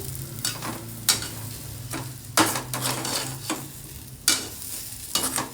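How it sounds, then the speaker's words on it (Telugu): A spoon stirs spice powder into a potato and okra masala curry in a pan just off the heat, giving repeated scraping strokes with soft sizzling beneath, close and moderately loud. "ఈ పౌడర్ వేసేసుకుందాం, బాగా కలిపేసుకుందాము."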